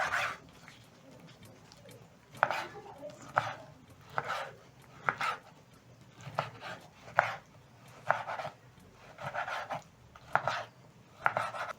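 Beef liver being cut with a knife on a cutting board, heard as a regular series of crisp chopping thuds roughly every second, close and fairly loud against a quiet room.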